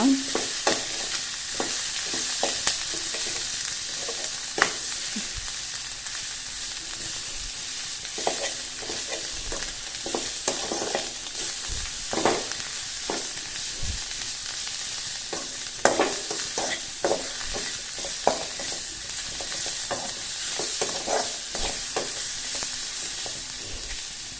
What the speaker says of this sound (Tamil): போட்டு நல்லா வதக்கிக்கோங்க